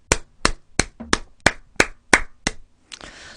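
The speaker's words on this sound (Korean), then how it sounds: "기가 막힌 포인트로 박수 짝짝짝." A single person clapping hands in a TOEIC lesson, about eight sharp, distinct claps in a quick regular rhythm, close and dry, followed by a brief soft rustle with no talking.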